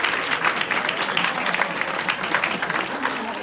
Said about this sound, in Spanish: quisiera que todos lo despidamos con un fuerte aplauso